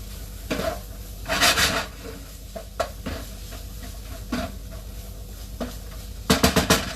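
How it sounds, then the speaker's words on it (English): A wooden spoon stirs tofu and black beans in a pan, making repeated scraping and shuffling strokes over a light sizzle, with a sharper burst of clattering near the end. "get your wooden spoon again and give this a good stir up"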